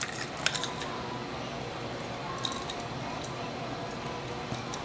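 A baby handles a set of metal keys and lets them drop, giving faint, scattered jangles and clinks over a quiet indoor background.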